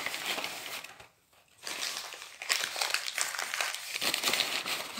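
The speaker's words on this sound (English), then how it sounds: "Put lightly, okay? Don't push it very hard, otherwise you will tear the paper bag." A paper bag is crumpled and pressed for a children's craft, giving close, crackly rustling bursts with a short quiet pause early on before the crinkling resumes and carries on steadily.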